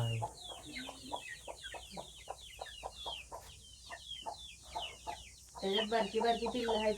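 Chickens cluck and chatter in quick, busy bursts nearby, with a few louder squawks near the end.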